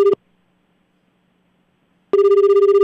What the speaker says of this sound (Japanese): もしもし、 天才たけしの元気が出るテレフォン